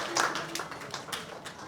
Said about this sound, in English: So a round of applause for Jayam Ravi to Trivandrum,